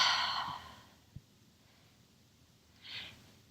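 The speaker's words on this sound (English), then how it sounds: "breathe out." A yoga exhale: a soft breath out at the start, a small click, then a second brief breathy puff near the end, close and quiet with no talking.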